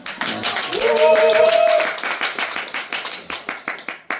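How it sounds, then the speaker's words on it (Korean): An audience at a barefoot-walking lecture claps for an elderly mother and father, a burst of applause that thins into scattered individual claps, with a voice sounding briefly over the start. "어머니, 아버지께 여러분들 전부 다 박수를 한번"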